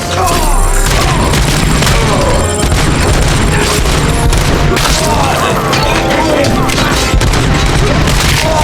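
Dense gunfire and booming impacts in the RoboCop: Rogue City video game, rapid overlapping shots and crashes filling the whole stretch, loud and close, with voices shouting commands over the battle.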